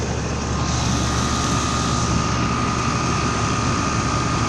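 A 2022 ICP four-ton central air conditioner with an Emerson compressor and a Broad Ocean fan motor, running alongside a 2018 Ruud Achiever unit. Together they make a steady, loud, close hum with a fan whoosh and a constant drone, and no one speaks.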